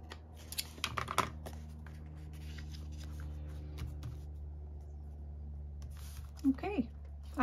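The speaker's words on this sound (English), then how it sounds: "My scissors to round this piece here." Scissors snipping and rounding the corner of a paper piece for a Christmas file-folder craft project, a few quiet, close cuts with soft paper rustle and a voice talking nearby.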